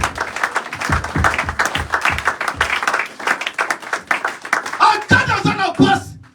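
A church congregation at a Sunday service applauds, a sustained, uneven clatter of many hands that swells and keeps going, with voices and shouts rising through it toward the end.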